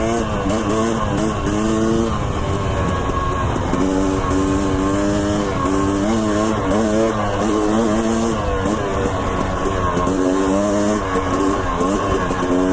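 Two-stroke dirt bike ridden through the desert, its engine buzzing loud and steady with rising and falling revs as the rider works the throttle, wind rushing throughout.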